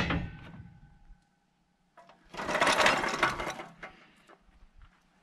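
A Badland Off-Road 3 ton floor jack is lowered after a tire change, giving a short clanking start, a pause, then a loud hissing, rattling release that fades into lighter metallic clicks.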